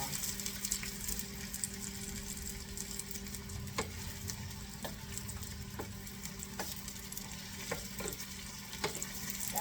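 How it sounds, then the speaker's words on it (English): Onions fry gently in oil over a low flame, a soft, even sizzle running throughout, punctuated by light, spaced clicks of a utensil stirring in the pan. "That's why I'm staying here stirring it, and it's on a low flame."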